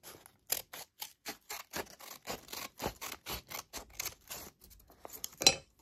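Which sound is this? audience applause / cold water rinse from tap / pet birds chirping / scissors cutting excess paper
scissors cutting excess paper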